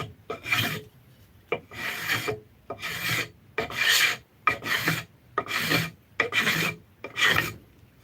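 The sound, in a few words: rasping wood to thin out a piece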